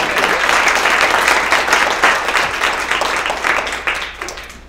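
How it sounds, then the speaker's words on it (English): Applause rises from the audience at an Open Science Symposium after a panel session, strong at first and gradually thinning and fading toward the end. "Sorry, round of applause."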